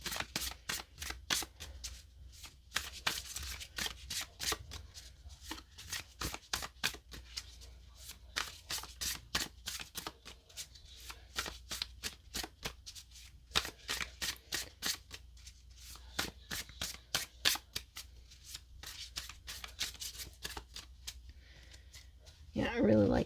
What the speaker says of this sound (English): Let's just shuffle. It shuffles nice.